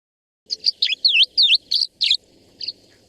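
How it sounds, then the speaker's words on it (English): Tree swallow calls near water, a quick run of about eight bright, liquid chirps and twitters in close succession, then one softer call after a pause, clear and close against a quiet background. "this tree swallow, which is going to be, you're going to see this in huge flocks swirling all over the water"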